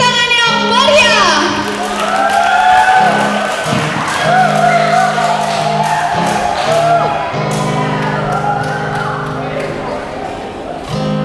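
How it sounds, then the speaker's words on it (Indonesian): At a school event at SMK Al-Iman Terpadu, an audience of students cheers and shouts over a sustained musical tone. The crowd noise is loud and lively, with children's voices whooping throughout and no distinct clapping standing out. "beri tepuk tangan yang meriah"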